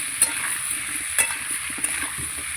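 Chopped onion and mixed vegetables fry together in a pan, giving a steady close sizzle broken by a few sharp clinks of stirring utensils, with no talking.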